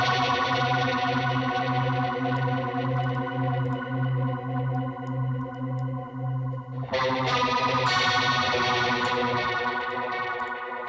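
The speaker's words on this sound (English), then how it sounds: "Now I feel like we need some like weird guitar tones going on." Electric guitar in a 90s nu metal riff with strange warbling, modulated effect tones, a sustained wavering drone that brightens into a harsher, distorted texture partway through.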